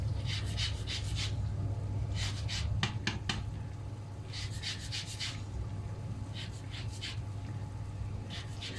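An orange is zested on a grater in a kitchen, making short bursts of scratchy rasping strokes in quick clusters with pauses between, close and fairly quiet over a low background hum.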